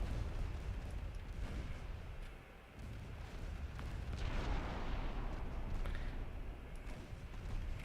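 Warship naval guns booming in Ultimate Admiral Dreadnoughts, a steady wash of heavy gunfire rumble with scattered distant reports, briefly dipping before swelling again, with no voices.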